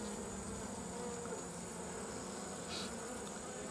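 Honeybees buzz around a Layens hive during requeening, a soft, steady, dense hum with no voices heard.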